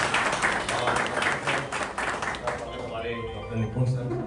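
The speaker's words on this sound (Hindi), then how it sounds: "बहुत बहुत जोरदार ताली" Audience applause greets guests at a welcome event at an eye hospital, a dense wash of clapping that continues steadily and fades slightly while voices murmur underneath.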